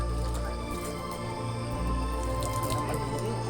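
Water pours and drips steadily for washing hands outdoors, a continuous splashing trickle heard close under a busy background hum.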